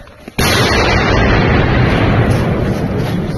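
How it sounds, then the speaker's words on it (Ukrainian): A sudden loud blast at the start rings into a long rumbling roar that fills the rest of the clip, a mortar firing nearby. "Постріл!"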